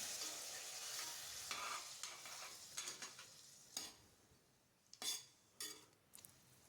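A masala mixture for meal maker biryani being stirred and sautéed in a pan, with a soft sizzle under scattered scrapes and sharper spoon clinks against the metal.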